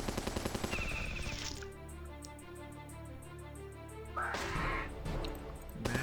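Mass machine gun turret firing in the Battle Nations video game: a brief burst of rapid clattering shots at the start, followed by sustained game music tones and a louder crashing impact near the end.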